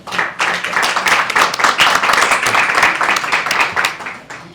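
An audience at the Guadalajara International Book Fair applauds loudly and steadily, a dense close wash of clapping that swells quickly, holds for several seconds, then fades at the end.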